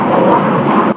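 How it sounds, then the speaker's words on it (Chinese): A fighter jet roaring overhead near an airport by a school campus, a loud, steady, broadband rush that fills the whole second without a break. "战斗机则是划过天际，呼啸而过，成了校内特有的景观"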